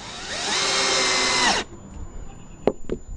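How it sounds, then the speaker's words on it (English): A power drill whirs steadily for about a second and a half while driving a 1-inch wood screw into lumber laid on sawhorses outdoors, then cuts off, followed by two short knocks. "I'm just affixing them to the lumber with 1-inch wood screws"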